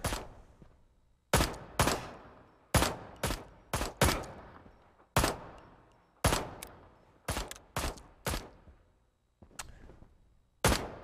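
Video game gunfire from Ride to Hell: Retribution comes as sharp single shots and short bursts at irregular intervals, each followed by a brief decay, with quiet gaps in between.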